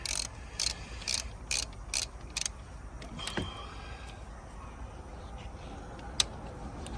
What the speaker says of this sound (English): I'm going to loosen up these other 3 in order to get some movement on this